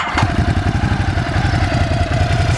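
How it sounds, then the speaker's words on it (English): A 2020 Ducati Hypermotard 950 SP with its stock exhaust idles close by, a steady, low, lumpy twin-cylinder throb with a fast regular pulse and no talk over it. "So, pretty chill sound because it is a stock exhaust."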